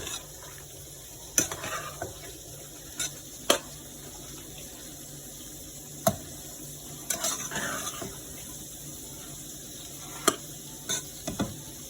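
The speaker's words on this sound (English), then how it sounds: "let me finish mixing up my macaroni" Macaroni being mixed in a pot with a spoon, giving scattered scraping and knocking clicks at an irregular rhythm over a steady background hiss, close and moderately loud, with no voices.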